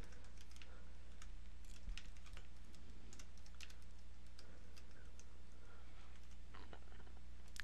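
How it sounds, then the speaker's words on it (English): Email address being typed on a computer keyboard, a quick irregular run of soft key clicks over a steady low electrical hum, faint and close, with no voices. "type in my email address"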